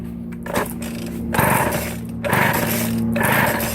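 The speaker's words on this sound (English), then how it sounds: "now I'm gonna see if this 32cc Mack chainsaw works" A small 32cc Mac chainsaw two-stroke engine sputters and revs in uneven bursts, surging and dropping several times, loud and close with no talking.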